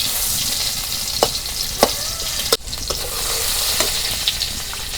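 Chopped onions fry in a pan for silver carp bhuna, a dense, loud hiss of oil with a few sharp clicks and scrapes of a spoon against the pan, close up and without voices.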